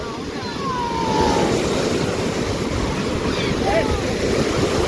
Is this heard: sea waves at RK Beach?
yes